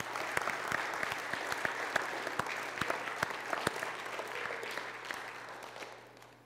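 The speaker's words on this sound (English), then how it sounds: "Let's go ahead and give another round of applause for all of our kids." A crowd at a youth awards ceremony claps for the children, a dense round of applause with many sharp individual hand claps standing out near the listener. It tapers off at the end.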